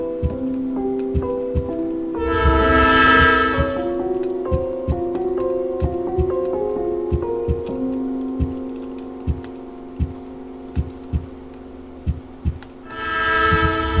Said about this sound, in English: Oh shit, I almost ran right into the train.